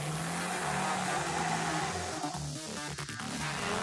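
Polaris Slingshot sports car drives past loudly with a strong engine roar that dips and wavers near the end.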